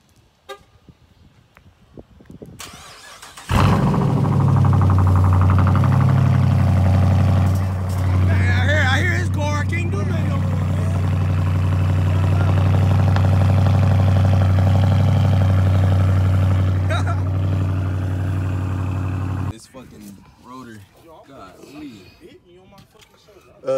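A Dodge Charger running on headers only with no exhaust fires up from cold and settles into a loud, raw, rumbling idle that holds steady for about fifteen seconds before cutting off, with people talking around it.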